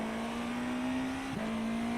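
A race car holds steady throttle around Mugello circuit, a loud sustained engine drone at near-constant pitch with a brief dip around the middle.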